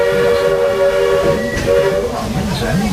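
Walt Disney World Railroad train in the park, nearing Frontierland: a steady tonal squeal of brakes or wheels sits over low rumbling as the train slows to a stop, with faint voices in the background.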